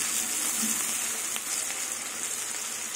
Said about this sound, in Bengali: এবার পেঁয়াজটাকে ভেজে নেব।